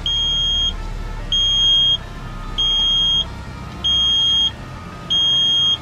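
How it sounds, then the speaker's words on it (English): Steady warning chime inside a 2012 Hyundai Veloster, five evenly spaced bright beeps each lasting about half a second, close and loud over a low cabin hum. "What the freak is that beeping for?"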